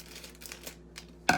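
Scissors snip through a plastic food package with faint crinkling, then one sharp, close cut rings out at the end.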